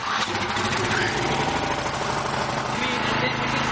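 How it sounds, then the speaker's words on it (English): A scrapyard-built engine, just given a three-hour tune-up, cranks and runs loud and close with a dense continuous clattering roar, while people speak over it. "After a 3-hour tune-up, Johnny's ready to give the engine another try."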